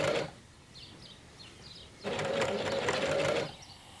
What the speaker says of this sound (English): Sew with a 2 cm seam allowance.